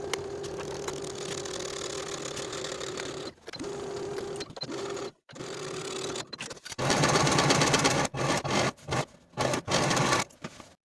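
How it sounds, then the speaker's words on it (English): Sewing machine stitching two fabric pocket layers together along a curved seam for a skirt, a steady mechanical whir broken by several short pauses, running louder and faster near the end. "Then we'll sew those two pocket layers together along that curved seam with a 1/2-inch seam allowance"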